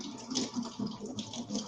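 Garlic rinsed under a running kitchen tap, a soft steady splash of water with small irregular surges, close and fairly quiet, with no talking.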